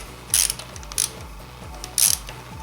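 A ratchet tightens the camshaft holder bolts on a Suzuki RF900 motorcycle engine with a quick series of close clicking pawl sounds, broken by a few sharper metallic bursts.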